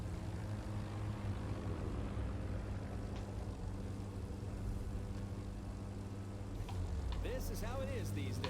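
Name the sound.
airplanes flying in The Crew 2 video game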